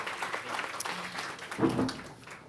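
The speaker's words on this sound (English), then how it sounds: "let's have a big round of applause just for all the panelists today" An audience at a college event applauds the panelists, a soft, fairly distant patter of clapping with a brief louder swell partway through.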